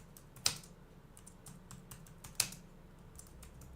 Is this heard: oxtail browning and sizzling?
no